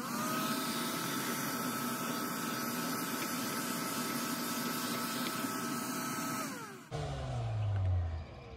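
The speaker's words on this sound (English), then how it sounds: "So here's just the vacuum." A vacuum cleaner working over an AC unit, a steady loud whine with whistling tones that drops and changes pitch near the end as the suction shifts.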